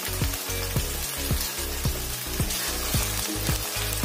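Raw mango and ginger fry in oil with onions for a sweet-sour pumpkin sabzi, a loud continuous sizzle broken by repeated rhythmic spatula strokes, close and with no voices.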